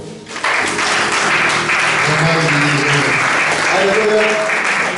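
A church congregation bursts into sustained applause for a girl, loud and close, with dense clapping filling the hall and voices and music blending underneath.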